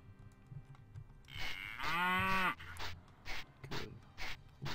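A cow in the video game Daggerfall lets out one long, close moo that bends downward in pitch. Short, regular thuds follow it.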